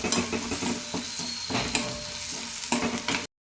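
Egg bhurji made with grated egg, onions and tomatoes fries in a pan with a steady close sizzle, broken by repeated scraping stirs of a spatula, then cuts off abruptly.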